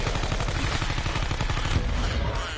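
Rapid gunfire from shooting at a green object in a window in Call of Duty Blackout, a dense run of loud, close shots lasting the whole stretch without a break.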